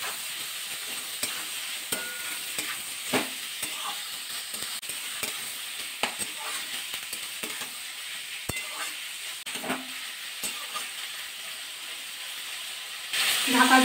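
Onion, green chilli and tomato are stirred as they fry in a pan for an egg curry. A moderate sizzle runs under repeated scraping and clattering strokes, and a louder burst of noise comes at the end.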